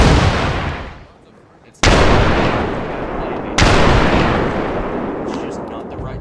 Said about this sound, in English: Oh. Grenades are being thrown.